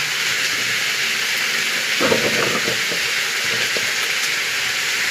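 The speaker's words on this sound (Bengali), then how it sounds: "হালকা নেড়ে চেড়ে নেবেন।" Pieces of katla fish frying in a pan give off a steady, loud hiss, with brief extra spitting and scraping about halfway through as the fish is stirred.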